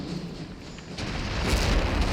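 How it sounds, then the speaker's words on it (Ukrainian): Napoleonic-era artillery in the Napoleon: Total War video game, at the Battle of Arcole, sends deep booms and rumbling blasts that swell louder over a noisy battlefield background. "Тут прилітає артилерія моя, чудово прилітає"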